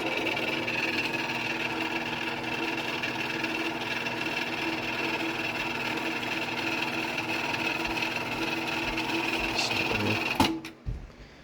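A Genie Model 209 chain drive garage door opener runs with a steady, loud mechanical whir and chain rattle that stops abruptly near the end, followed by a couple of knocks.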